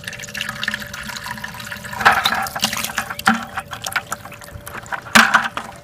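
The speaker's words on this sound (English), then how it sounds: "So we're going to fill this up with water." Water running into a bucket to make worm tea, a steady close rushing fill with several louder splashy surges and a few knocks against the container.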